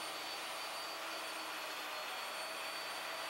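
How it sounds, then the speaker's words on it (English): A Leigh router jig guides a router as it plunge-cuts overlapping holes for a mortise, producing a steady, high, whining motor roar that holds even and constant throughout, fairly distant or subdued and with no talking. "To cut the mortise, plunge a series of overlapping holes."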